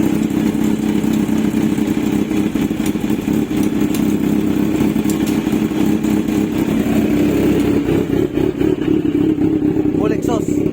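A Kawasaki Z1000 R motorcycle fitted with an SC Project titanium full exhaust runs loud and close, a deep rumbling idle with throttle blips that eases off near the end.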